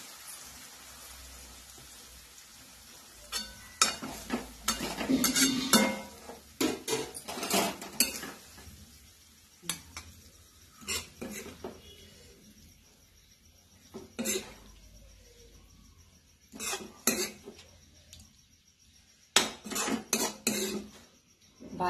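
Cooked ghevada bean bhaji is spooned from a pan into a bowl, with scattered clinks and scrapes of a utensil against metal in irregular bursts separated by quiet pauses.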